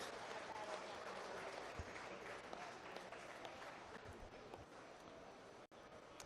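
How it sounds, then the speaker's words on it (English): Faint, steady applause from spectators at a market and breeding beef cattle show, a continuous distant patter of clapping heard in a large arena for several seconds. "give her a round of applause"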